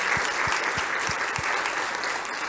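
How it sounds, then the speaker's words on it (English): Steady audience applause fills the room after a talk on creation versus evolution, dense continuous clapping at an even level throughout, with no voices over it. "Give Brad a round of applause here"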